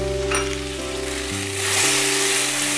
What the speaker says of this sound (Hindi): हमने कढ़ाई ली है और इसमें हम पास्ता डाल देंगे और फिर हम इसमें कैप्सिकम